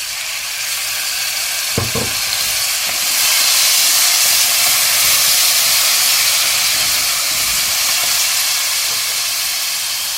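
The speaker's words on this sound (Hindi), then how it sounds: "थोड़ा सा गर्म पानी का छट्टा देना।" Hot water splashed into a frying pan of potatoes and spices with bathua greens, giving a loud, steady hiss and sizzle of steam that swells after a couple of seconds and keeps going for the rest of the stretch.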